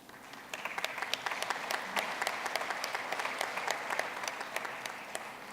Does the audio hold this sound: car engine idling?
no